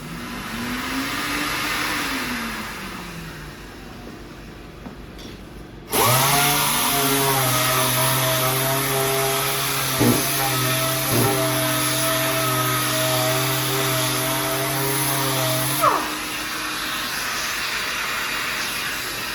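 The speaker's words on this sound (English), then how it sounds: "See how rough this looks when you first start sanding it?" A power sander works a wood panel from a Q*bert arcade cabinet being restored, starting abruptly after quiet room noise and running as a loud, steady whine for about ten seconds before easing off, with no talking.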